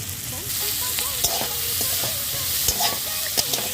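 Egg hitting a hot buttered pan for Bengali egg soup, with a steady close sizzle of frying and occasional clinks and scrapes of stirring, no talk.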